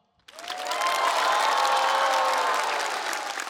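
After a brief moment of silence, a live stand-up comedy audience bursts into loud, sustained applause with scattered cheers. Dense clapping from a large crowd holds steady for about three seconds.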